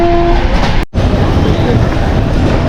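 A passenger train travels on a rainy day, its interior giving off a loud, steady low rumble with a brief cutout partway through.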